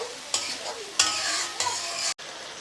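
Tomato paste mixture sautéing and being stirred in a pan for a vegetarian dhoka curry, with a steady sizzle broken by three louder scraping stirs, close by and without talk.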